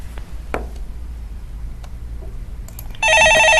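Telephone ringing in a Korean stock-market call-in radio studio, heard after a few quiet clicks and thumps as a sudden loud, steady electronic ring that continues to the end.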